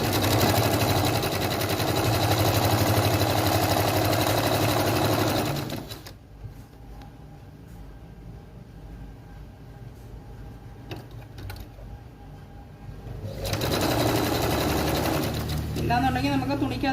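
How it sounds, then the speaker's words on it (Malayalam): A sewing machine runs steadily while stitching fabric for churidar pants, loud and close, pausing in the middle for several seconds of near quiet before starting up again. "ഇതിൻ്റെ കൂടെ തന്നെ ചേർത്ത് വെച്ചിട്ട് നമുക്കങ്ങ് തയ്ച്ച് പോവാം"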